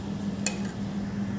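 A spoon stirs spices, salt and chili into grated raw papaya batter in a bowl. A single light clink and scrape sounds over a steady low hum, brief and close.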